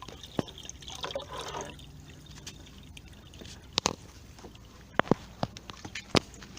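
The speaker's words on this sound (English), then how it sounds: "This is the pond in which I'm siphoning the hose." Water trickles and drips softly as a hose siphons water out of a backyard fish pond, a faint steady flow broken by scattered sharp splashes and plops.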